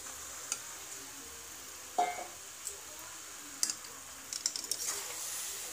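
Chicken goes into a sizzling curry masala in a pan, giving a faint steady sizzle broken by several sharp clatters and scrapes of a spoon against the pan.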